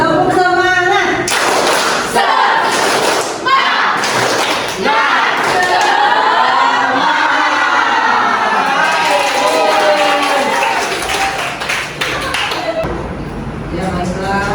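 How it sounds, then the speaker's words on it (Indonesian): Students in a classroom clap a rhythmic 'tepuk semangat' cheer, loud and close, with sharp bursts of hand claps and thumps mixed with voices and crowd noise throughout. "Tepuk semangat."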